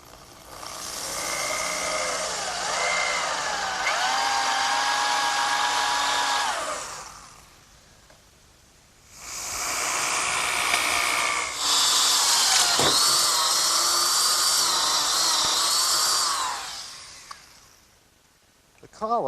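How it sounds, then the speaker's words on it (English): A power drill with a 1 3/8 inch bit bores through an oak 2x4 for a workbench bench screw. It whines loudly in two long bursts separated by a quiet pause, nearby. "I'm ready to drill a hole through the 2x4 in oak for my bench screw"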